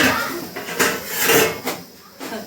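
A metal pot of tea is set onto a kitchen stove, bringing a few clanks and scrapes of metal on metal, close and moderately loud, with brief pauses between them.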